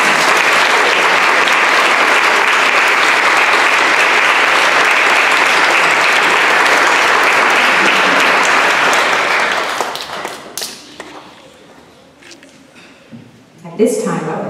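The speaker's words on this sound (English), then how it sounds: "Let's give our preschoolers a round of applause." Preschoolers at a promotion ceremony receive sustained, loud applause from the audience for about ten seconds, then the clapping fades into scattered claps and quiet room noise.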